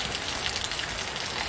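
Steady rain falling and pattering on surfaces in a village, a dense even hiss of drops with no voices.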